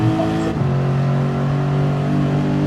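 Porsche 911 GT3 R flat-six race car in Gran Turismo 7, a loud, steady high-revving exhaust drone holding near constant pitch with a brief shift early on, no voices.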